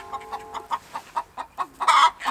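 A hen clucks rhythmically after laying an egg, a steady run of close, repeated clucks that rises to a louder, squawking cackle near the end.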